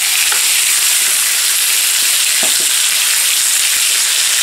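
A steak sizzles in a hot pan, a dense, loud, continuous hiss with a few faint pops and crackles, steady and close with no voices.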